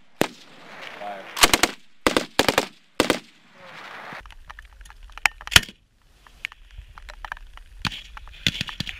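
A military machine gun fires at an outdoor range with soldiers of the 173rd Airborne Brigade in Slovenia, loud sharp bursts in quick clusters, followed by more scattered shots and distant reports while voices call out between them.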